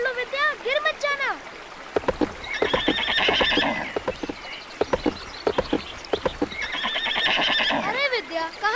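A close horse whinnies loudly at the start and again near the end, with quick hooves clip-clopping between the calls.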